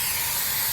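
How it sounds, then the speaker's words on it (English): Slide-out dry lube spraying into an RV slide-out track, a continuous close hiss of aerosol with no breaks and no voices. "we're going to use that slide out dry lube spray, and we're just going to spray it up in that track"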